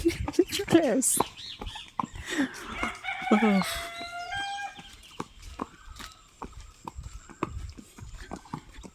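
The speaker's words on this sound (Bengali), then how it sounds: "এখন তো ভোরের বেলা মোরগ বি ডাকতেছে" A rooster crows loudly at dawn nearby while people talk, followed by clucking and a series of sharp clopping taps.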